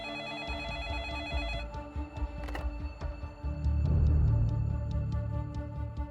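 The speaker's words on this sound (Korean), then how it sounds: "두 사람을 살해한 후 김성관은 아내에게 전화를 겁니다." A telephone rings repeatedly in a steady rhythm, fairly clear, with a low rumbling background that swells partway through.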